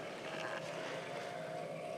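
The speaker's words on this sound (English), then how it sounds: "So here you can turn your impulse engine on" The impulse engine sound effect of a 1:350 scale Star Trek Enterprise NCC-1701 model plays as a steady, whooshing, humming drone, even in level and fairly loud throughout, with no talking.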